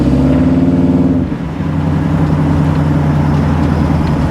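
A 1957 Chevy engine runs steadily on a drive around town, a loud, continuous low rumble with a brief dip in the drone partway through before it settles back to an even idle-like hum.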